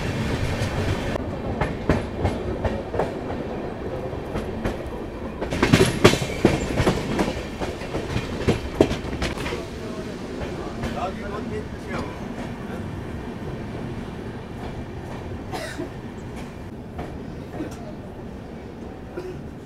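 A Vaishali Express train overtakes a moving Gorakhdham Express on an Indian line, its rolling clickety-clack and wheel rumble swelling close by midway, then easing into steady carriage noise.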